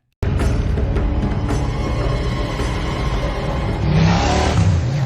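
A motorbike carrying two riders in a film scene, a loud engine whir that holds steady and then rises in a revving surge near the end, with no voices.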